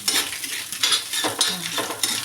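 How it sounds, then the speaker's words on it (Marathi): Vegetables and eggs frying with homemade red chilli masala, steady sizzling broken by repeated stirring scrapes of a utensil against the pan, close and fairly loud with no talking. "आपले 1-2 मिनटं छान भाज्या आणि अंडी आपण फ्राय करणार"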